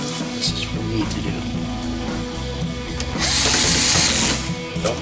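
A power screwdriver drives small screws into a build, with short whirring bursts and ratcheting clicks over workshop noise, then a louder, harsher high whine for about a second near the end.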